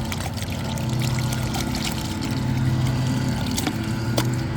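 A cloth swished through diluted Owners Pride Eco Wash solution, giving a continuous wet sloshing and trickling that stays steady and close throughout, with no talking.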